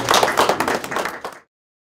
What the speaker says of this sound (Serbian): Evo sad jedan aplauz.